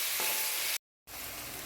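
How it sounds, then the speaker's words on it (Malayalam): Onions sizzle and fry in a pan as they are stirred, a steady close broadband hiss broken by a brief silent gap before the sizzling resumes. "അപ്പം നമുക്കിനി ഇളക്കി കൊടുക്കാം കേട്ടോ."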